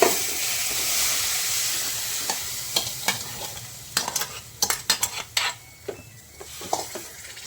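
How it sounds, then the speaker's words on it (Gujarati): A utensil scrapes and clinks against a pan while sweetened milk roasts, first a low hiss and then a run of quick, uneven stirring knocks and scrapes, close and clear, with no talking. "હવે આપણે આ બધું દૂધ શેકાઈ જાય ત્યાં સુધી હલાવતા રહેવાનું છે"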